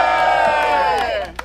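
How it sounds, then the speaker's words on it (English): Crowd at a cabin party event cheering and shouting together in a loud, sustained roar that tails off after about a second. "The crowd is booming with anticipation."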